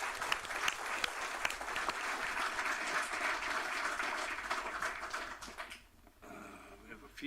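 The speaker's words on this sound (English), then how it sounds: "Let's give her a round of applause for 20-some years." Audience applause at a city council and water authority meeting, sustained clapping from a roomful of people that tapers off near the end as a voice begins speaking.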